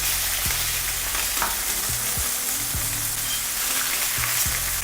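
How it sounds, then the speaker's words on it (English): Chicken breast, sliced through the middle and seasoned with smoked paprika, fries steadily in hot oil in a pan. A constant loud sizzle runs throughout, broken by several sharp knocks and scrapes as the pieces are moved around. "Just moving it around, making sure the oil is all around the breast"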